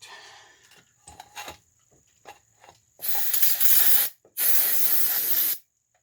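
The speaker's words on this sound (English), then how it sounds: "Had a whole bunch of cans that had almost no brake parts cleaner in them, so got one here that's like maybe 3/4." Aerosol can of brake parts cleaner sprayed on a Holley carburetor from a 1979 360 Mopar engine, two loud sustained bursts of about a second each after a few faint clicks and handling knocks.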